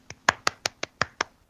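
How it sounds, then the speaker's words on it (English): A single person's polite golfer's clap: seven soft, evenly spaced hand claps in about a second and a half, close and dry against a quiet background. "let me give you a golfer's clap right here"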